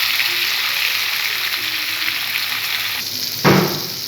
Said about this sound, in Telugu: Turmeric powder and salt as required. ఇదంతా బాగా మిక్స్ చేసేసుకోండి.